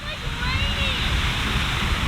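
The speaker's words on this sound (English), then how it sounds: "This fountain is huge." A huge fountain spraying water below a reservoir dam that feeds New York City, a dense constant hiss and roar of falling spray and mist, close and steady, with faint tonal whines over it.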